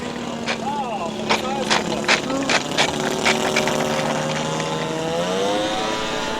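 A radio-controlled P-40 Warhawk warbird model runs its engine rich during a flying display, a steady droning buzz with wavering pitch under continuous commentary over a public address system.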